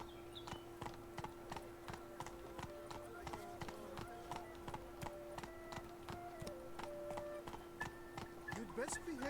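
Roach the horse's hooves clip-clop steadily at a walking pace in The Witcher 3, a regular stream of hoof taps over constant game ambience and music tones, with a brief flourish near the end.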